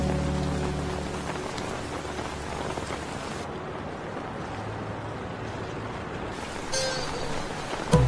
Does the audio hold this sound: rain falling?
yes